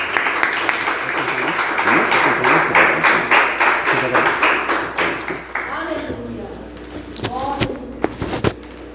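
Church congregation applauding during a service, dense steady clapping from many people that thins into scattered claps, with voices speaking and calling out over it.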